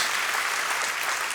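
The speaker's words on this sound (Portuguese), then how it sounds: "dá uma salva de palmas ao Senhor" A church congregation breaks into a brief, steady wash of applause, with many hands clapping densely and evenly at an even, fairly loud level and no talking.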